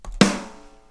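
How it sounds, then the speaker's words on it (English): A single sharp sampled snare drum hit with reverb, close and loud, ringing out with a bright decaying tail. "So if we're just playing a snare like this"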